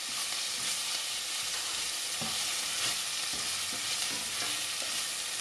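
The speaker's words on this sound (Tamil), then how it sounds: "இப்போ லைட்டாக வதங்கிட்டது," Small onions sizzle steadily in a pan for Chettinad chicken kulambu, a dense, continuous frying hiss with occasional soft stirring knocks underneath, close and even throughout.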